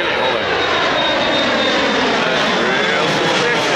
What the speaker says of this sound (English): That plane looks really old.